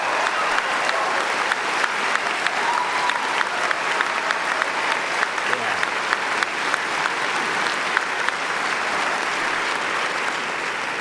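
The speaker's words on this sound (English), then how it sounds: "Give yourself a round of applause" A class claps in sustained, even applause for about eleven seconds, dense and close with no voices.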